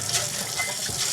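Hot water gushes steadily from a tap into a sink, a close, continuous broadband rush with no speech over it.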